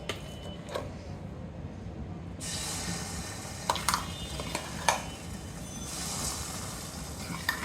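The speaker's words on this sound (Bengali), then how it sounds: "আচার বানাবো, সরষের তেল দিয়ে দিলাম" Mustard oil hissing and sizzling in a wok (kadai) while mango pickle is made, a steady close sizzle with a few sharper crackles and spatters through the middle.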